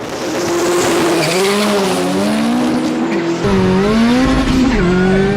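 A K20-powered Volkswagen Bug on an MR2 chassis makes a loud drag strip pass, its engine screaming and climbing steadily through the gears with a brief shift dip, close and continuous throughout.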